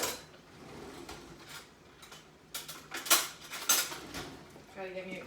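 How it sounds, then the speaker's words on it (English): A spoon scraping and clinking against a pan while butter sauce is basted over pork, with scattered metallic taps and a soft sizzle underneath, growing busier toward the end. "I'm going to start spooning the sauce over the pork."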